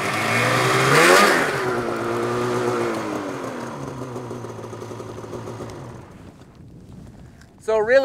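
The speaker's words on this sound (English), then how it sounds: "listen to the blip of the throttle, on the throttle, off the brake, and then back on the brake" A snowmobile engine on a downhill track gives one sharp throttle blip, its pitch climbing quickly and then settling into a steady, fairly close running note. The engine fades gradually, and a brief louder burst comes at the very end.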